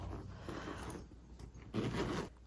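A purse zipper with a leaf-shaped pull slides open in a few quiet, close rasping strokes, with a brief pause before a louder final pull.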